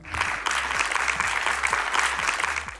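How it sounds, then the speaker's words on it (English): A crowd claps in sustained, dense applause that holds steady throughout, loud and close. "a big round of applause for him."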